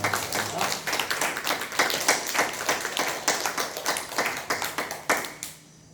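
A church congregation claps during a Sunday service after a choir's hymn, a steady, fairly close and loud burst of many hands that stops abruptly near the end, leaving near silence.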